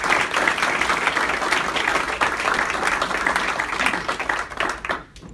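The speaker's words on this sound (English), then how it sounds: "I'd like for all of us to give him a round of applause" Sustained, loud crowd applause at a retirement celebration honoring a departing leader, thick continuous clapping that holds steady for several seconds before tapering off near the end.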